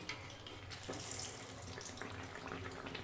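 Small rounds of malpua batter fry in hot oil with a continuous, busy bubbling hiss that crackles up and down, heard alone at low level.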